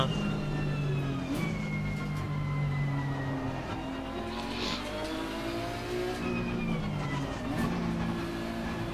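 Race car engine in Assetto Corsa Competizione at Silverstone, a continuous loud drone with rising and falling revs and gear changes, steady throughout with no talk.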